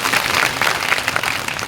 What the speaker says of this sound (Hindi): उनके लिए जोरदार तालियां बजा दीजिए